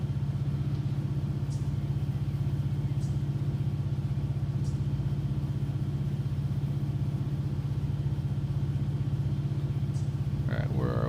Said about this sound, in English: You can stand next to it and it's just idling and it's missing